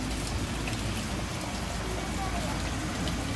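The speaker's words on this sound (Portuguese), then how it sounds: "olha a chuvinha maravilhosa" Rain falling steadily in the Ceará backcountry, a continuous broadband hiss of drops close by, fairly even throughout with no distinct thunder.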